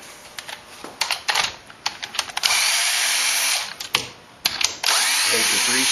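A power tool whirs in short bursts and a longer sustained run while loosening bolts on a GEM electric car motor, loud and close, with clicks and clatter between runs and no talking.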